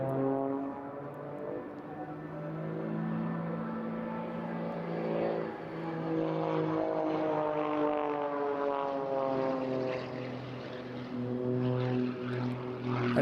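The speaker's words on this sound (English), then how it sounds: "just keep the aircraft stable vertically in the hover" A hovering aircraft at a seaside airshow gives a loud, sustained droning engine roar with steady harmonic tones that rise and waver slightly as it holds position, heard alone without talk.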